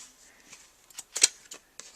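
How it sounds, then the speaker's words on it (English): Scissors snip through thread strands at the bottom of a handmade tassel, a few quiet, sharp cuts spaced irregularly in an otherwise hushed room. "take our scissors, and we're just going to snip right along the bottom here"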